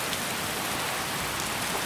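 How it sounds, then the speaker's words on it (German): Steady rain falls in the Skyrim video game, a dense, even hiss of drops with no voices over it. "Und es regnet."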